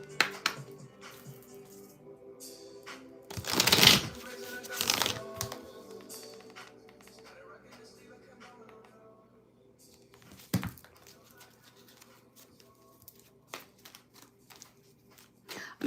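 Tarot cards being shuffled in a couple of quick riffling bursts, followed by sparse taps and card handling, close and fairly quiet.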